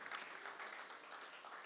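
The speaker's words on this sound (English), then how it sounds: "give him another big round of applause" Faint, steady applause from an awards-ceremony audience, a soft even patter of many hands held for a couple of seconds with no voices over it.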